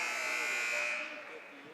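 A basketball game buzzer sounds to end the quarter in a Fort Dodge vs Waukee game, a single loud, sustained electronic tone fading out after about a second, with a commentator's voice over it.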